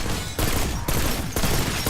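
A Swat 5.56 rifle in the video game Black Ops 6 fires dense, continuous automatic bursts, with the sustained rattle dipping briefly between strings of shots.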